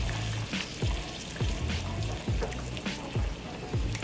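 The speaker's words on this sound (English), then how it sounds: "And now we're just gonna let it simmer." Spicy salsa with oregano simmering in a pan, a steady bubbling sizzle with regular soft pops and plops, fairly close and heard alone.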